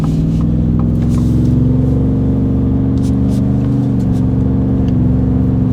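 A 2021+ Ford F-150 with the 5.0L V8 and an MBRP 3-inch cat-back single side-exit exhaust with resonator accelerates, giving a loud, continuous low engine drone that rises gently in pitch, close up with no pauses.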